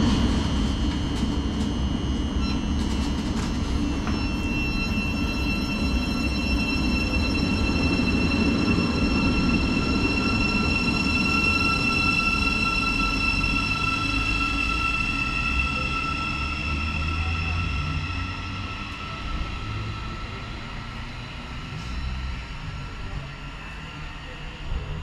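A Thameslink Class 700 electric train departs Leagrave station, a steady loud rumble with high whining tones that slowly fades toward the end, with a voice talking over it.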